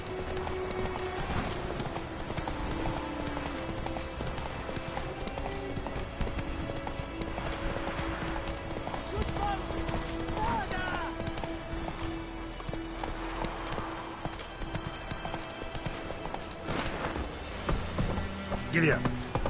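Rapid, rhythmic horse hooves gallop without pause in The Witcher 3, clopping steadily at close range over game ambience, with a voice speaking now and then over the hoofbeats.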